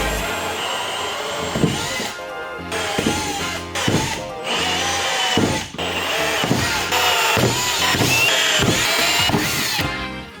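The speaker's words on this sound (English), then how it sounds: "Now we'll just run a 3/4 inch hole saw." A 3/4 inch hole saw drilling light holes for a truck lighting upgrade, loud whining power-drill bursts that rise and stop repeatedly with cutting grind and brief pauses between holes.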